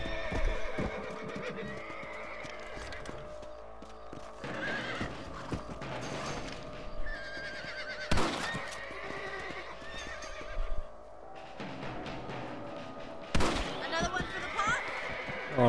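A horse in the Western video game Red Dead Redemption, with several loud whinnies and neighs over clip-clopping hooves, plus scattered sharp thumps and a little talk in between.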